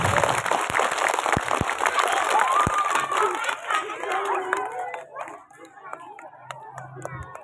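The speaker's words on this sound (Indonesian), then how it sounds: "tepuk tangan." An audience at an elementary school Maulid Nabi celebration claps loudly with some cheering and chatter, the sharp hand claps thinning out as the applause dies down over several seconds.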